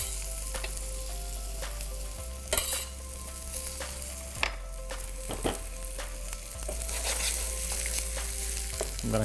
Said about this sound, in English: The garlic gets sauteed lightly.